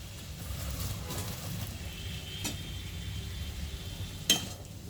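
Tomato and slit green chillies fry in a pan for a paneer and baby corn curry, giving a faint, steady sizzle with occasional soft clinks and one sharper tap near the end.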